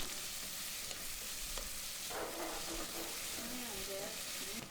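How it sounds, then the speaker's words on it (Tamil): Onions sauté in a pan for a Tamil tomato chutney, giving a steady soft sizzle with occasional stirring scrapes and a faint voice in the background. "ஒரு 3/4 பாகம் வெங்காயம் வதக்கிக்கலாம்."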